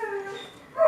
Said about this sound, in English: Apologies for the crying dog in the background.